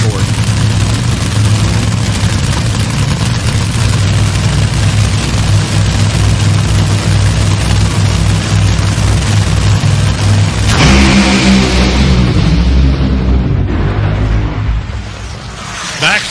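Two Top Fuel dragsters thunder down New England Dragway during a qualifying run at the New England Nationals, a loud, continuous roar that shifts partway through and fades toward the end, with an announcer talking over it.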